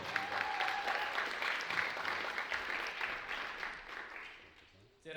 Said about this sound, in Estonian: aga me saame teha suure aplausi Vahur Kobin.